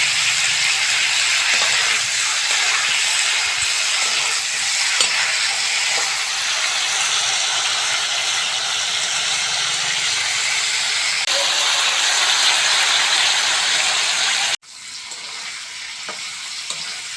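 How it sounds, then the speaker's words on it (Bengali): Cauliflower fries in oil with a loud, constant, hissing sizzle that cuts off abruptly near the end and returns quieter, with no voices over it. "ফুলকপিটা ভালো করে ভেজে নেব।"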